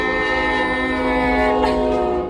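A train horn sounds loud and steady, a sustained, close blast that fills the whole stretch as the train passes.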